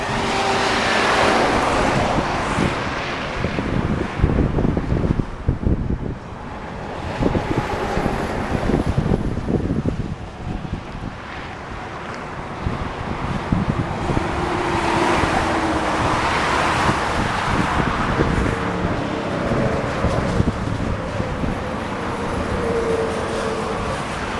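A Dassault Falcon 7X tri-jet taxis at Visalia airport in California, with a steady, broad jet engine roar that swells and fades as the aircraft rolls, a whine running over it and no talk.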